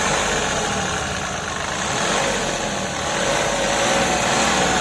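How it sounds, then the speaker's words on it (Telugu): A Mahindra Bolero Neo's 1493cc diesel engine idles steadily and loudly up close, a dense, even rumble with a faint knocking texture that holds for several seconds with no talking. "ఒకసారి ఇంజన్ సౌండ్ ఎట్లుందో ఎన్నుర్రి."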